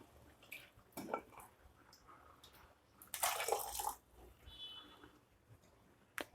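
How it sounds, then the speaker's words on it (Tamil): Cooked lentil water being poured into a pot of radish sambar, giving a short watery splash and gush in the middle, with faint kitchen clinks and drips around it and no speech. "இப்போ நம்ம பருப்பு தண்ணியை இதில் சேர்த்துக்கலாம்."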